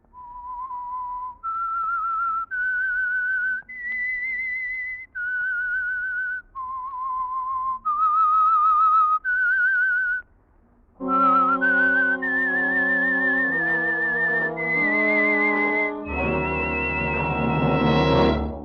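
A clear whistled melody, slow and deliberate notes rising and falling, then a brighter, fuller restatement of the tune with accompanying tones.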